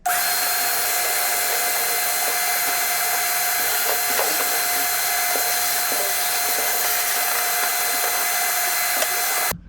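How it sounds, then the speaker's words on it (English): A shop vac runs continuously while vacuuming rust dust from the floor of a Suzuki Cara kei car, a loud, steady, high-pitched whine with occasional faint clicks and rattles, ending with a brief drop as it stops. "I'm going to use my shop vac"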